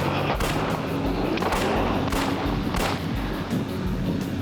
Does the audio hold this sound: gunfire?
yes